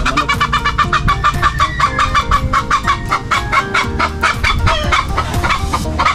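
Brooding hens cluck in rapid, overlapping bursts, close by and continuous, with a few sharper calls mixed into the busy chatter.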